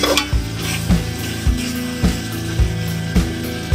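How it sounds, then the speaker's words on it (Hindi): Spices frying with green chillies in a pot for chicken haleem, a steady close sizzle with a regular, repeating knock of a spoon stirring roughly every half second. "हरी मिर्चों के साथ भी अच्छी तरह हमने इसको भून लिया।"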